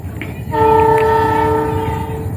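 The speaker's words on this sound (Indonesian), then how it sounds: "kereta api Jayabaya sudah terlihat, disimak sama-sama ya teman-teman kereta apinya" A loud, sustained horn from the Jayabaya passenger train bursts in and holds over the heavy rumble of the train passing close by, among rice fields near Cepu, Indonesia.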